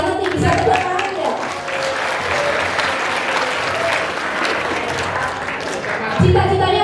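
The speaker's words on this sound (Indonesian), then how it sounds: "Oh, keren banget nih, bisa tepuk tangan ya." An audience at a school talk show on waste management breaks into sustained applause, a dense wash of clapping that runs through the clip, with voices talking over it.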